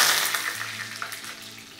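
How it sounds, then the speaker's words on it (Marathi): A steady, crackling sizzle of curry leaves frying in hot oil, close and fairly loud, with small pops scattered through it. "मोहरी छान तडतडली की त्यामध्ये लगेचच आपण कढीपत्त्याची पानं घालून घेतो."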